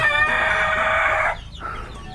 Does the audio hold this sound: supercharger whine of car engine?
no